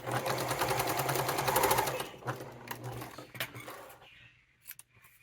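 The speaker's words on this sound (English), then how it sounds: "So I'm going to fold it back by about 1/4 inch and sew it." A sewing machine runs in a fast, steady whir as it stitches a quarter-inch folded fabric edge on a wallet strap, then slows and stops with a few clicks.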